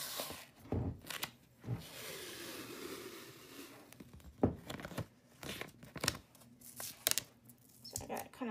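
Clear transfer tape being cut from a big roll: irregular crinkling, tearing and snipping bursts, close and moderately loud, with soft background noise and some talk in between.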